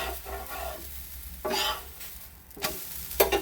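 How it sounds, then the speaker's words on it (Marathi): Dosa cooking on a hot pan gives a soft, quiet sizzle, and a few scraping and clattering sounds come as it is flipped to roast the other side. "थोडीशीच भाजायची दुसरी बाजू. लगेच पलटी करून घेऊ."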